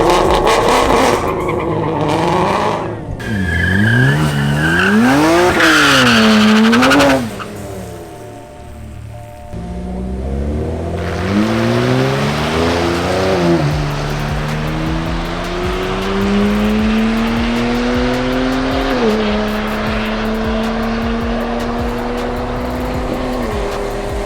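A turbocharged drag racing car makes a full pass, loud and close: the engine revs hard through rising and falling gear shifts, then settles into a long steady drone as it runs down the strip.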